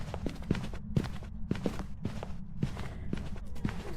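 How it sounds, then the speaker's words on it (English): Slow, steady ghost footsteps in the horror game Phasmophobia thud at roughly half-second intervals, close and distinct over a constant hissing background. "Since we have the flashlight, we can hear the footsteps."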